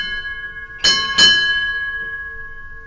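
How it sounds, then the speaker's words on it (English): Ship's bell struck at a U.S. Navy retirement ceremony, heard as two clear metallic strikes close together with a long ringing decay over a steady tonal background. "Time orderly, sound 4 bells."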